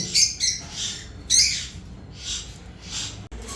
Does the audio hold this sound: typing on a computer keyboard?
no